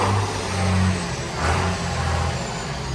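A 6615 tractor engine rumbles up close and is revved in two low swells, its deep throbbing growing louder and easing off with no talking over it.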